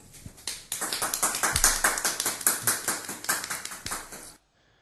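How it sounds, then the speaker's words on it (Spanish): Audience applause at a puppet show, with sharp, distinct hand claps in a quick uneven rhythm building to a lively patter close by, then cutting off abruptly into silence. "Fuertes aplausos."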